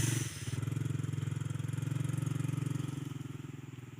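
A motorcycle engine runs at a steady throbbing idle near a palm oil plantation, loud and close, with a brief rev at the start.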